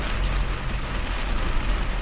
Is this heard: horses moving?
no